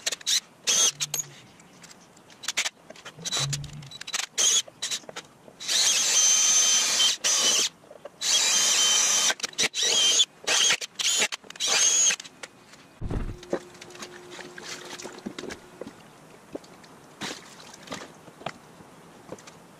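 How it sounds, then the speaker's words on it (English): A power drill bores out three rivets on a 70-year-old engine part, whining in several loud bursts separated by pauses, with clunks and handling noises between runs and quieter tinkering afterward. "I need to drill out those 3 rivets to take this piece out"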